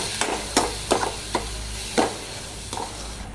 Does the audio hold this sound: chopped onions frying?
yes